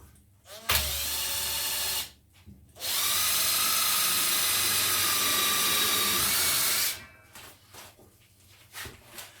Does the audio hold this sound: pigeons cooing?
no